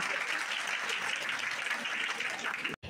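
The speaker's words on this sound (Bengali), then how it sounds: "আরুষে প্রগতিপত্র প্রদান করা হলো 2024 সমবেত করতালি।" An assembled crowd at a school results and progress-report ceremony claps in a continuous, even burst that ends abruptly near the close.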